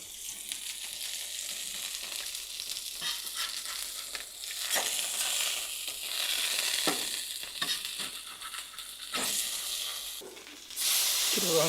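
Burgers fry in a pan over medium heat, giving a steady loud sizzle and hiss that rises and falls while the patties are moved and flipped.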